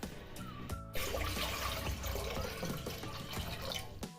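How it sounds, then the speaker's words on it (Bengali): Water is poured into a pot to cook rice for egg biryani, a close, steady splashing stream with a brief louder surge near the start and faint clinks of the vessel. "তার জন্য আমি একটা পাত্রে জল দিয়ে দিলাম।"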